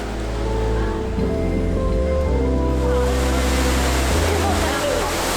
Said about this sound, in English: I can hear the Trevi Fountain.